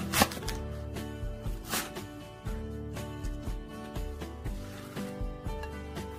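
A knife chops steadily on a cutting board in quick, even strokes, cutting vegetables into thick julienne strips, close and fairly quiet, with music playing underneath.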